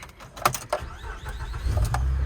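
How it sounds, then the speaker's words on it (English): A car at a dealership is started: a few clicks and mechanical clatter lead into a low engine rumble that swells and holds steady near the end, with no voices. "All right, let's see if she starts up."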